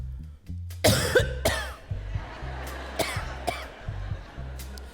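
A person coughs in a quick run of harsh, close coughs, the first burst loudest, then several more trailing off with small pauses.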